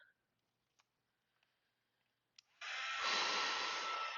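A hair dryer switches on after a few faint clicks and quiet handling noises, then blows a loud, steady hiss at close range to dry paint in a mixed media art journal.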